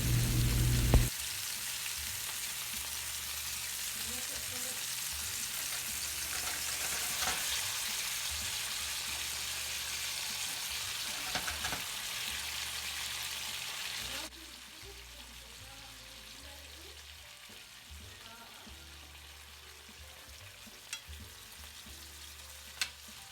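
Steak frying in a pan as unsalted butter, garlic, fresh thyme and fresh rosemary go in, a steady loud sizzle with occasional stirring clatter, dropping to a quieter crackle partway through.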